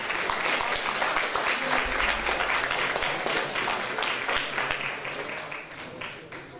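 An audience at a sports awards ceremony breaks into sustained applause, dense steady clapping from many hands in a large hall that slowly thins toward the end, with some talk mixed underneath.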